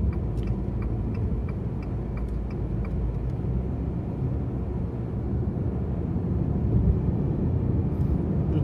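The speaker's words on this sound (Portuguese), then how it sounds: "Carro fazendo a curva aqui" A Fiat Toro with a newly replaced engine rounds a curve, heard from inside as a low, steady road and engine rumble that swells slightly toward the end, with faint clicks ticking now and then.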